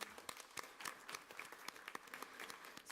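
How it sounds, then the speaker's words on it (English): A room of attendees applauding at a school district board meeting, continuous rapid clapping from many hands, moderately distant and fairly faint, sustained throughout. "Please give them a round of applause."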